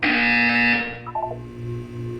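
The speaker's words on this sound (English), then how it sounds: "When you hear the buzzer, look up at the ceiling." A buzzer in the video game Portal 2 sounds once as a loud, harsh, steady electronic tone for under a second, then cuts off into quieter tones and a low hum.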